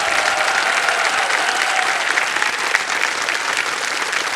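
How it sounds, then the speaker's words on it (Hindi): A studio audience on a TV quiz show applauds a contestant who has just won 25 lakh rupees, loud, dense clapping that holds steady from start to finish. "तालियां बज जाएं इनके लिए।"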